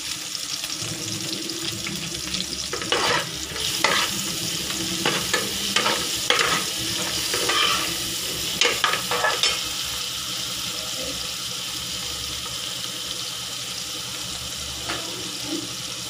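Tempering (tadka) for besan kadhi sizzles in a pan while being stirred, giving a steady hiss with scraping stir strokes and brief clatters through the middle, no talk.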